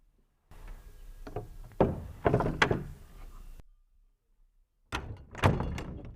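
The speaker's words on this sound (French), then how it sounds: "Il poussa la porte." A wooden door is pushed open with a creaking scrape and a couple of solid knocks and thunks, close and fairly loud, then a brief silence before more wooden clunks follow.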